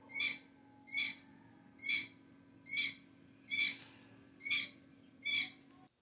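A Coturnix quail chick gives seven evenly spaced loud chirps about one second apart, close and clear against a quiet background with a faint steady hum.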